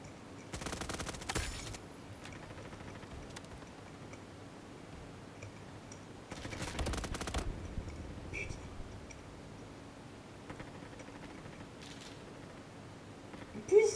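Gunfire in the video game Front Line: two short bursts of rapid automatic shots a few seconds apart, fairly faint and distant, with scattered ticks and clicks between them and a sharper sound at the very end.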